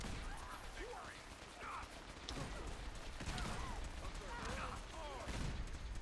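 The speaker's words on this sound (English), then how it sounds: "The turrets are shooting at me." Automated turrets in Fallout 4 open fire in a dense, continuous barrage of gunshots and mechanical clatter, with overlapping impacts and whirring sweeps, fairly loud and close throughout, while a voice speaks over the chaos.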